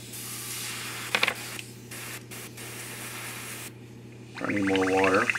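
An airbrush sprays craft paint with a steady airy hiss over a low mechanical hum, briefly cutting out, then returning louder with a whining tone near the end.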